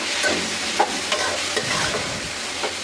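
Potatoes cooking in a pan for a bitter gourd fry, a close steady sizzle with a few soft scrapes and knocks as they are stirred.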